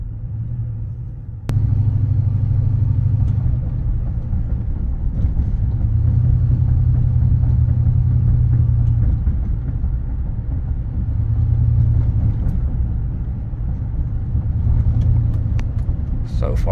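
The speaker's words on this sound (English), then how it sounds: "So far, the truck is driving really nice." A supercharged 2004 Chevrolet Silverado 1500 with the Joe Gibbs Performance package cruises on a very cold day, its engine a steady low rumble that swells and eases at intervals inside the cab, with the heater running.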